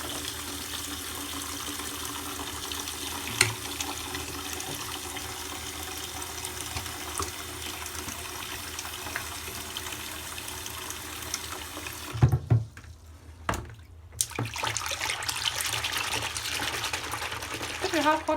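Cold tap water runs steadily into a plastic basin set up for washing an old wig, a continuous splashing flow with a brief interruption partway through.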